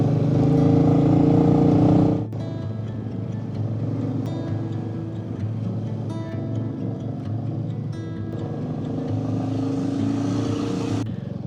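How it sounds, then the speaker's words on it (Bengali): A car engine labours uphill on a high-altitude mountain road toward Badrinath, droning steadily with a louder surge at the start, then a sustained lower hum with shifting tones and occasional clicks throughout. "আমার গাড়ির ইঞ্জিন সাউন্ডই বলে দিচ্ছে যে আমরা অনেকটাই অল্টিটিউড গেইন করেছি"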